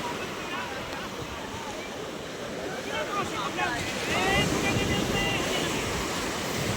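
Storm-driven ocean surf at a seaside fish landing, a continuous broad roar of breaking waves with wind buffeting the microphone, swelling louder in the second half.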